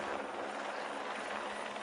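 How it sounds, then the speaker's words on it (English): Helicopter flying over the Ardèche gorges during a Tour de France stage, a loud, steady rotor and engine roar filling the whole short moment with no voices. "I think the helicopter pilot's enjoying himself today, swooping down through the gorges of the Ardèche"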